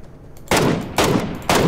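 Three loud bursts of gunfire from an online shooting video game, each a sharp broadband blast with a rumbling tail, spaced about half a second apart after a brief quiet start, with no talk over them.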